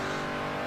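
A stock car's engine in the Forza Horizon 2 racing game drones loud and steady at a held pitch through a short burst, with no voices.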